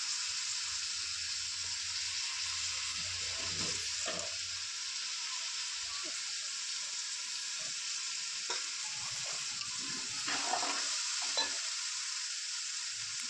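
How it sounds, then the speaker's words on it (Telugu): Chopped tomatoes fry for a fish curry, giving a steady bright sizzle with intermittent soft stirring knocks close by, and no voices are heard. "ఇప్పుడు కట్ చేసి పెట్టుకున్న టమాటాలు కూడా యాడ్ చేసేద్దాం మొత్తం ఇదంతా కొంచెం ఫ్రై అయ్యేదాకా వెయిట్ చేద్దామండి"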